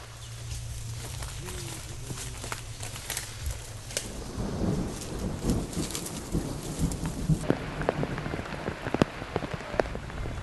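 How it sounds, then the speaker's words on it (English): Rain falling through a forest canopy during a jungle trek, a steady hiss of drops on leaves that thickens into denser pattering halfway through, with occasional faint bird calls in the background. "It's like a pleasant surprise that it started raining in the forest."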